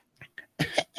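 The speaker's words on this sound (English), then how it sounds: "let me clear my throat" A couple of soft short catches lead into a rough, raspy throat clearing, close and fairly loud, in two bursts.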